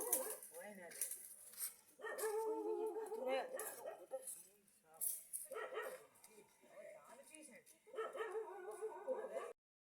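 A dog barks and yips repeatedly in close, loud bursts, mixed with whimpering, with pauses between the bouts.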